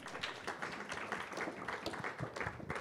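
Audience applause at a venture capital panel event, a steady patter of many hands clapping at moderate volume, continuous for a few seconds without talk.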